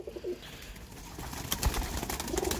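A Teddy pigeon coos in short, low bursts at the start and end, nearby, over a busy background of rustling and scuffing noise.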